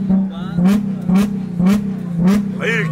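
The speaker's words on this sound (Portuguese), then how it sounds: "Para de acelerar o carro." A car engine revs repeatedly in short bursts, about five loud rising roars in a steady rhythm close by, while someone speaks over it.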